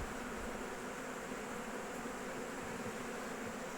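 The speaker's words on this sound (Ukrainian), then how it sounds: "Степанчик покаже зараз внутрішню частину вулика." Bees at an opened beehive, a dense continuous buzzing swarm close by, steady and moderately loud with no talking.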